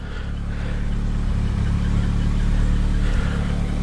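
A Ford Anglia's small engine idles steadily through a cold winter warm-up, a close, continuous low rumble with a slight lift in revs partway through and no talk.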